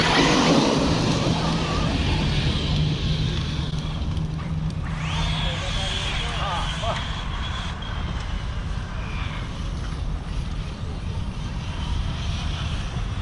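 Off-road RC cars race outdoors with a constant high, buzzing motor whine that rises and falls as they pass, mixed with broad rumbling noise, while people talk over the racket.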